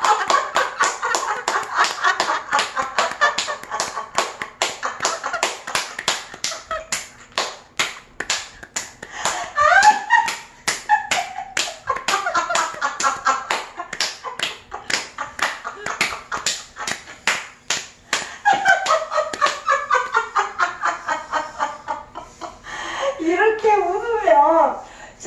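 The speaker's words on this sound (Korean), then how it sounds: "자, 다 같이 마음을 열고 온몸으로 박수 한번 쳐" A group clapping together during a laughter therapy exercise in a seniors' recreation class: rapid, continuous claps with a voice talking and laughing loudly over them.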